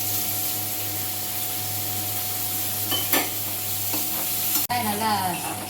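Curry leaves and dried red chillies frying in oil in a pan with onions for chicken thokku, a constant close sizzle with a few sharp crackles and a brief clatter of stirring.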